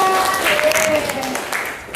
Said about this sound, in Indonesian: tepuk tangan untuk Mbak Aika.